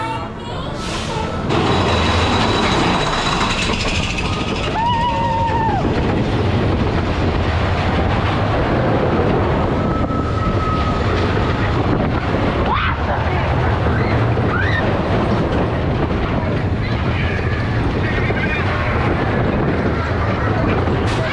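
A loud, continuous rumbling ride on the Big Thunder Mountain Railroad mine train coaster at Walt Disney World's Magic Kingdom, with clattering rails and whooshing wind, a few faint screeching squeals and distant shouts mixed in.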